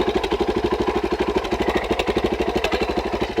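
A motorcycle engine idles with a silencer fitted, putting out a steady, close, rhythmic low putter that stays even and unbroken throughout, with no voices over it.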